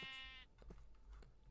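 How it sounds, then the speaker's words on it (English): A Minecraft sheep bleats once in a quavering, harmonic call at close range, followed by scattered soft footsteps and shuffling game sounds over a low ambient hum. "I was hoping there'd be sheep over here"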